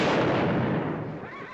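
A gunshot in the Western film McLintock!, a heavy booming report that rolls out and gradually fades over a couple of seconds, with no talking over it.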